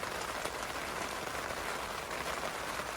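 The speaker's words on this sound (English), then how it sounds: "I love the sound of the rain." Heavy, torrential rain pounds steadily on a tent during a windy storm, a dense, continuous close-up patter with no let-up.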